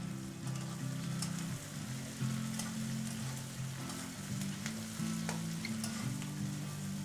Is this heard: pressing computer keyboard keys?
no